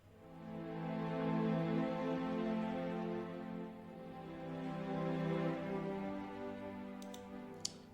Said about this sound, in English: the strings sound like this